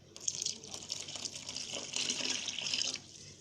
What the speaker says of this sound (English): So we are going to add more water.